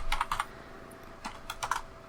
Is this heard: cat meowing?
no